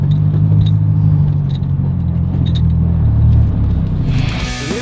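A wrecked Corvette Z06 cruises along the road with a steady, loud low engine rumble and drone, faint ticking on top, the tone shifting slightly near the end.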